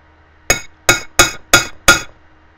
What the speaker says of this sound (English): Give it another good tap.